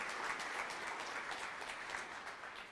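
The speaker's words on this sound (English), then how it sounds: "Let's give a round of applause." An audience at a 1 Million Cups Wichita gathering claps steadily with a soft, even patter that fades slightly toward the end, heard from some distance.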